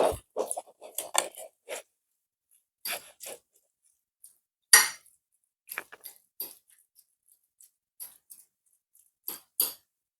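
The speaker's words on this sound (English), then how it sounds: "So I'm just going to get a fork and break them up" A fork breaks up cooked tilapia fish in a bowl, giving sparse, close, soft scraping and clicking taps in irregular bursts separated by silence.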